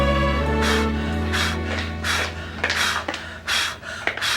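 Lamaze breathing, a woman's rhythmic panting in short bursts, loud and close, repeated about seven times over a sustained background tone.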